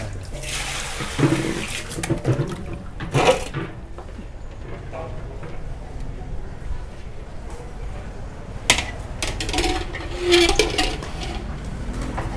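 Corn is rinsed under a running kitchen tap, water splashing and gurgling with sharp bursts of handling noise as the cobs are turned, while someone talks over it.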